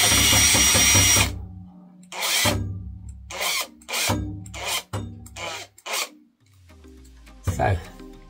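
A power drill spins to twist fishing line for a drill rig fishing tackle, with short whirring bursts starting and stopping in a choppy rhythm, close by and fairly loud, with someone talking between and over them.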